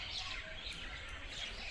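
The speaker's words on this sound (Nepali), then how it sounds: "चराचुरुङ्गीहरू" Small birds chirp faintly outdoors on a roadside stop between Pokhara and Chitwan, a few thin high tweets over soft wind-like background noise.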